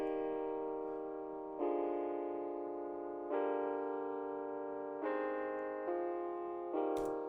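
Electric piano pattern from the Citrus synth plugin, in a melodic trap beat: sustained chords change roughly every one and a half seconds in a steady, evenly loud sequence, with a brief click near the end and no voices.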